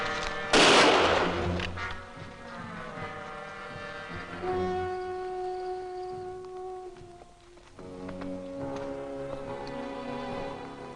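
A single loud, sharp gunshot cracks out near the start of a scene from the TV series Last of the Mohicans. Sustained orchestral tones follow and carry on through the rest of the clip.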